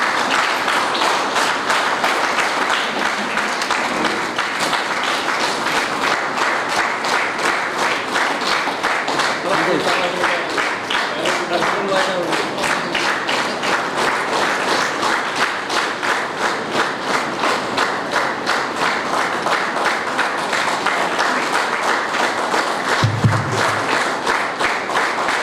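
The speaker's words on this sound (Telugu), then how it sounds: "ఇప్పుడే అసలు చప్పట్లు కొట్టాలి" Sustained, dense audience applause at an Itihasa Sankalana Samiti meeting hall gathering, steady loud clapping from many hands lasting the whole stretch, with a brief low thump near the end.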